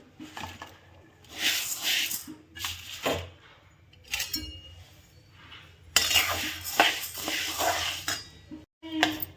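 Wheat grains roasting in a dry pan over a low gas flame, stirred in uneven bursts: scraping and rattling of grains against metal with quiet gaps between, near and moderately loud.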